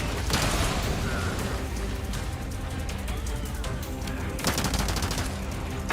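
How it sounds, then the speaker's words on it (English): Rapid SMG fire from Resident Evil 4 Remake Mercenaries mode, dense bursts of automatic shots crackling loudly and continuously over game music and effects, with heavier volleys near the start and end. "At least its gun is kind of accurate. More so because it's an SMG, it's kind of hard to miss."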